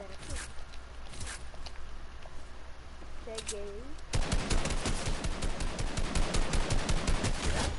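Rapid gunfire in a video game, scattered shots at first, then dense sustained automatic fire in the second half, with a voice speaking over it.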